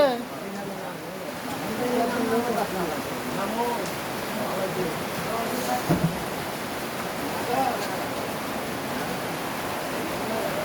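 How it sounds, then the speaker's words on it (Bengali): Heavy rain pours at a roadside tea stall, a steady broadband hiss running through the whole stretch while people chat over it. "ফুলদারে বৃষ্টি হচ্ছে"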